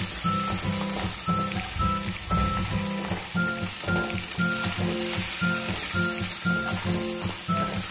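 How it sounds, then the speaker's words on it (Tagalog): Ginger sautés in a pan for a Filipino laing dish, a loud, close sizzle with bursts of stirring and scraping in a steady rhythm and no talking. "Saute the ginger hanggang sa medyo maging brown siya."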